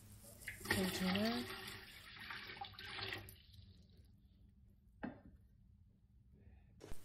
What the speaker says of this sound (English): Then we can put some cold water into this steaming container.